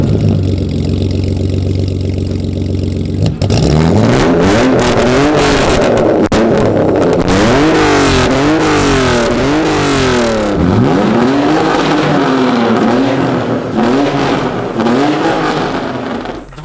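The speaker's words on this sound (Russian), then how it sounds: "Вы там писали по поводу звука выхлопа" A BMW E30 engine idles with a rumble, then is revved repeatedly in rising and falling bursts, loud and close, with raspy exhaust tone between blips.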